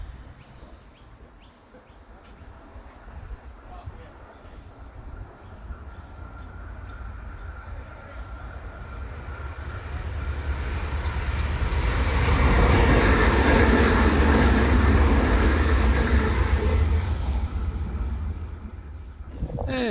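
An Oscar electric train bound for Sydney passes through a station platform on the South Coast Line, its rumble building steadily to a loud peak midway before easing slightly, with birds chirping faintly early on.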